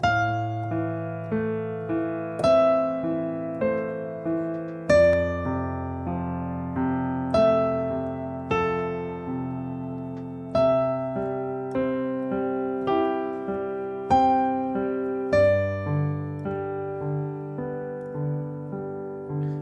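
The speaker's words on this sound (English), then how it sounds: "you can choose all the white keys on the keyboard and it would sound" Piano melody improvised at random on the white keys only, with single notes struck at a relaxed, even pace, each ringing and decaying before the next, alone and clear.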